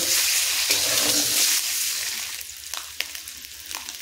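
Eggs seasoned with a little turmeric fry in hot oil in a pan, a loud steady sizzle that fades and thins after a moment, with a few faint clicks and scrapes toward the end and no talking.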